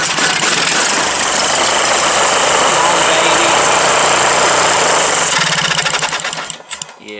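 A 20hp Briggs & Stratton opposed-twin engine on a 2001 Murray garden tractor cranks with a fast, steady mechanical churn, loud and close, then slows and cuts off near the end.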